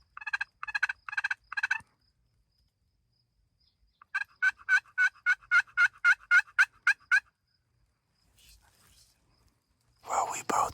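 A wild turkey hen calling in the desert: sharp, rapid bursts of clucks and yelps in quick rhythmic series, fairly close and loud against a silent background, with a brief whispered voice near the end.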